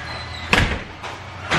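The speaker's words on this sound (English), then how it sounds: "I'm gonna take it through the front door." A house's front door is opened while a couch is carried through it, giving a couple of short, fairly loud knocks and bumps against background noise.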